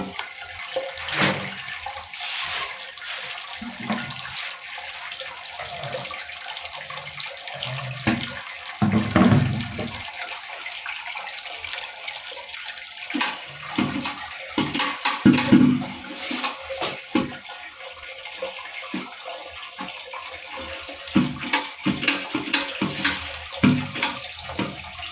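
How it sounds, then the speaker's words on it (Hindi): Toilet cistern tank refilling with water after a new float (gola) valve is fitted to an American-style commode, a steady rushing and trickling flow with occasional splashes and gurgles, close and continuous. "ये देखें टैंकी हमारी जो है ये भर के फुल हो चुकी है"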